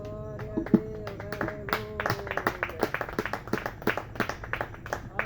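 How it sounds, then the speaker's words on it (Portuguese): A church congregation claps steadily in rhythm during Portuguese-language praise singing, a run of sharp, fairly close hand claps over a sung melody and organ-like tones. "Aleluia, palmas a Cristo Jesus."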